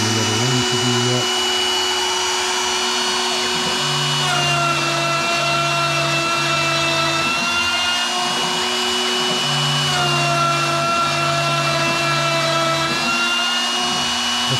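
A CNC router cutting mortise holes for joinery in a wooden bench, a loud, sustained whine with steady motor drone and pitch shifts as the cutter moves, running continuously without pause.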